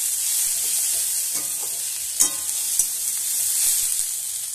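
Small mourala fish curry cooking in a pan with very little oil, sizzling steadily with a spatula scraping and stirring now and then, close and alone without voices.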